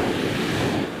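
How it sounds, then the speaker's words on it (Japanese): Ocean waves breaking on a shore, heard as a loud, continuous rushing wash mixed with gusty wind noise, with no voices. "うわー、海が、海じゃない、波が来た。"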